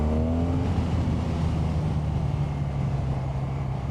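A BMW R12 motorcycle engine pulls hard from low revs, a loud, close, continuous deep drone with a pitch that rises briefly at the start and then holds steady.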